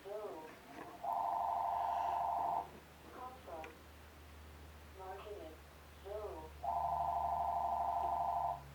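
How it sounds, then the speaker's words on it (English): A landline telephone rings indoors in two long electronic bursts separated by a few seconds, with someone speaking quietly between the rings. "Ignore the phone, they'll go away."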